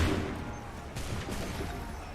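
A musket volley in Assassin's Creed III Remastered, a single broad crackling blast of massed shots followed by a fading rumble, with faint voices in the background.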